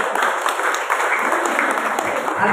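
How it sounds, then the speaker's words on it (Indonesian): Members of a church congregation at the opening of a hydroponics training in Sorong, Papua clap steadily, a loud, continuous patter of many hands throughout. "Tepuk tangan dulu."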